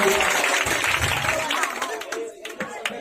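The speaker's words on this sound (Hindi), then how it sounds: "इसके लिए एक बार जोरदार तालियों से स्वागत कीजिए।" Audience applause at a Hindi-language school quiz competition, a dense spread of clapping through the first half that thins into scattered claps toward the end, with voices mixed in.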